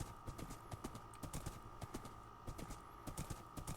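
Horse hooves in the Minecraft video game, a quick irregular clip-clop of light thuds at close range, steady through the stretch with a faint background hum and no talk.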